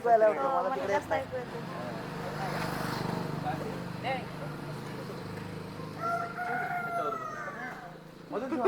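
A rooster crows from a moderate distance over continuous chatter and background noise, with clucking nearby, in Dandeli.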